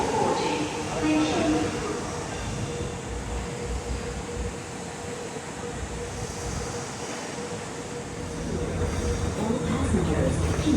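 A Singapore rail train travels toward Changi Airport, and the carriage fills with a steady, broadband rumble and rattle. The interior noise continues without a break for about ten seconds, rising slightly toward the end.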